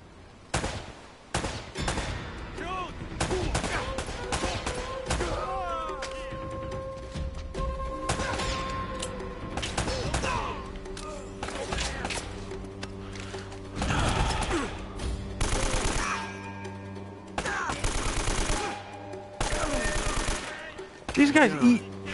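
Rifle gunfire in the video game Uncharted, repeated bursts and single shots with mechanical clatter across a chaotic firefight, loud and close, with some game voices mixed in.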